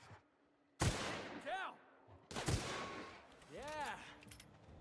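Gunfire in the video game The Outer Worlds: two sharp, loud shots roughly a second and a half apart, each followed by a ringing, warbling sci-fi tail, with no voices.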